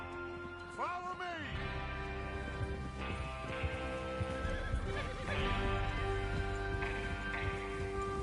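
A horse in the Red Dead Redemption video game lets out a loud, rising and falling whinny near the start, then hooves clop steadily close by, with a low background rumble beneath.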